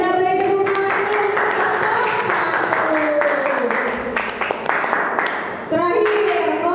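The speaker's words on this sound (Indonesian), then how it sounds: "yuk kita beri tepuk tangan" Classroom group clapping hands, a close, brisk patter of many claps with children's voices and chatter mixed in throughout.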